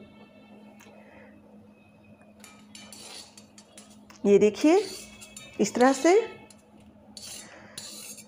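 Roasted makhana is moved into another pot, giving two short bursts of metal clinks and scraping from utensil against cookware, while someone speaks.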